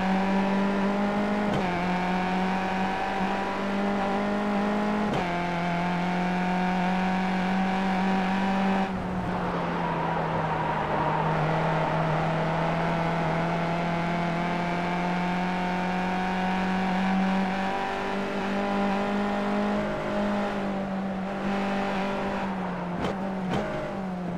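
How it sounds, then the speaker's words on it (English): Sim race cars in the iRacing video game hold a steady, droning engine note through a corner at Summit Point, with a brief shift in pitch and tire scrubbing from sliding cars, continuous and loud. "You can hear Burrows and Maines sliding everywhere."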